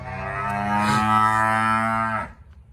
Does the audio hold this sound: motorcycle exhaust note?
no